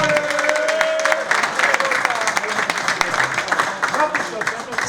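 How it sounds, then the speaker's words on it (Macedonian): A crowd at a Teteks club reunion in Tetovo applauds steadily for a longtime member, a close, dense clatter of hands running throughout with a few voices mixed in. "Еден аплауз за Перо."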